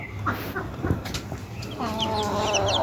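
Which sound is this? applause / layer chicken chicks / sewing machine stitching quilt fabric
layer chicken chicks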